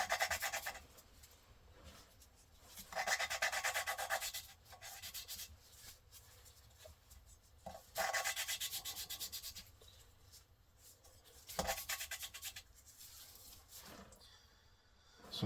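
Volvo 1.8 engine valve lapped against its seat by hand, a repeated scraping rub in bursts of a few seconds with short quiet pauses between strokes, fairly close and moderately loud.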